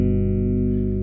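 Bass guitar sounds a G root and its third together as a chord, one sustained, steady tone lasting about a second, with no talk.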